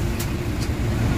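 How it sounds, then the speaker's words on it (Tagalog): Steady low rumble of road traffic on West Service Road, cars and buses idling and creeping close by, with two brief hissing clicks near the start. "Antindi ng traffic."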